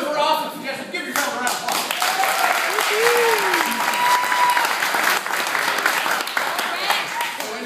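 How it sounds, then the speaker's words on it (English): A room full of people breaks into sustained, dense applause, steady and loud for several seconds with a few voices mixed in. "Give yourself a round of applause"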